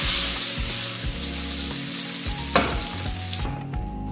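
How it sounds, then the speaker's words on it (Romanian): Leftover butter melts in a hot frying pan, bubbling with a bright continuous sizzle and crackle, loud and near, easing toward the end with no talk. "Eu voi turna untul într-o tigaie încinsă. Este untul care a rămas. Îl lăsăm să se topească."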